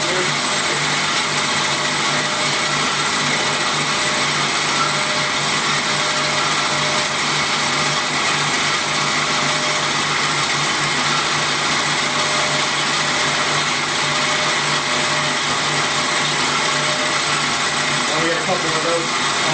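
An Amada HA 250 bandsaw cuts metal at its top speed, giving a loud, steady, continuous mechanical whine and grind that holds throughout without pause.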